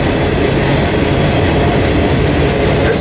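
A long freight train loaded with short highway trailers and double-stack containers rolls past near Barstow, California, a loud, steady rumble of wheels and cars filling the whole stretch without pause.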